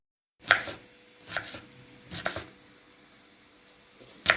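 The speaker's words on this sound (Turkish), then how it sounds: "Daha sonra da bu biberi doğrayacaksın değil mi?" A knife chops through red and green peppers on a cutting board, four crisp sharp strikes spaced unevenly with short quiet gaps between them.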